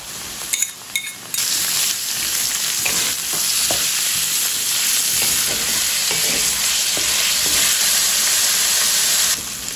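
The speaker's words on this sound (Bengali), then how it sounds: "মাংসটা আর আলুটা ঠিক এরকম অবস্থায় ভাজা হবে।" Boneless chicken pieces and potato fry in a pan, giving a loud, steady sizzle with frying hiss and a few faint clinks of stirring, and no voices.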